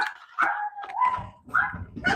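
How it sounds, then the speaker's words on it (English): Several dogs bark and yip indoors in quick, overlapping bursts, close and fairly loud, mixing sharp barks with higher whiny yelps. "my dogs are going to bark because I don't know, somebody decided to walk into their own home"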